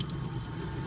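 A campervan sink tap runs, fed by a submersible water pump, giving a brief, steady, fairly quiet hiss and trickle of flowing water with no voices.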